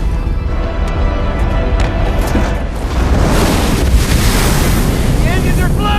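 Surf and waves rolling in the ocean of a Minecraft world, a steady loud broadband rush with wind-like noise that swells stronger midway and keeps washing continuously, dramatic music layered over it.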